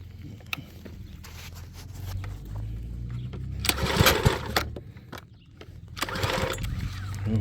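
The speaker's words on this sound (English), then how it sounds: "So let me get the pressure washer started and" A small pressure washer engine being pull-started in a garden, sputtering and catching in uneven bursts, then rising to a rough running note and faltering briefly before running again, fairly faint with some outdoor background noise.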